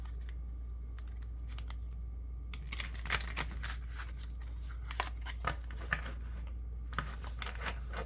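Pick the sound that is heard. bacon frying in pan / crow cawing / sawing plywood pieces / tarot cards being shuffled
tarot cards being shuffled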